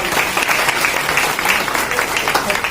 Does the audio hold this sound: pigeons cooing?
no